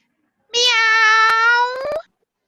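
A single cartoon cat meow sound effect in a Scratch coding project, one clear drawn-out tonal call that rises and then falls, followed by a couple of quick clicks before silence.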